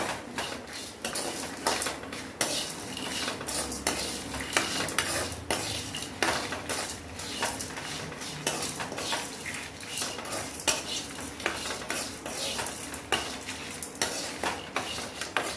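Lentils are dry-roasted for sambar powder, stirred in a metal pan with a rapid, repeated scraping and clinking of the spoon against the pan, close and busy, with no talk.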